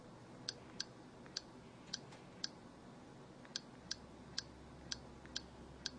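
Sharp, faint haptic clicks follow key presses on a phone's on-screen keyboard, about a dozen irregular taps spaced across a quiet background.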